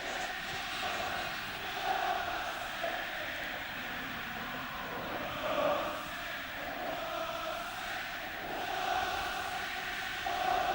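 A Wembley Stadium football crowd at an England versus Denmark match keeps up a dense, steady roar that swells at moments, loud and continuous throughout.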